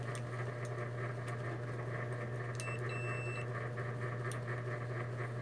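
A short electronic multimeter continuity-test buzzer beep sounds briefly in the middle, checking a fuse, over a constant low electrical hum, with faint ticks scattered around it.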